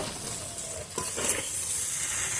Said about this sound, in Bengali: ফুলকপি আলু ক্যাপসিকাম বিনস সেগুলো সব দিয়ে দিলাম মশলার সাথে সব সবজি ভালো করে কষিয়ে নেব